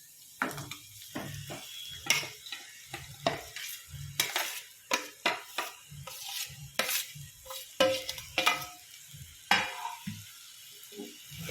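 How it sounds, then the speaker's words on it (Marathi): Potatoes for a dosa chutney sautéed in a pan, with repeated sharp scrapes and clinks of a spoon stirring against metal over a soft sizzle, close and rhythmic. "ह्याच्यामध्ये मी बटाटे टाकून घेते"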